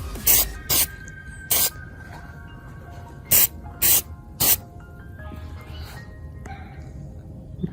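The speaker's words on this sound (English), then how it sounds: "But these, I'm gonna spray these real quick." Short aerosol spray bursts coat old trim pieces from a Nissan 300ZX Z32: about six sharp hissing blasts, close and loud, separated by brief pauses, with a quiet background between them.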